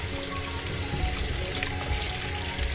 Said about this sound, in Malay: Beras perlulah dibasuh sehingga ianya bersih.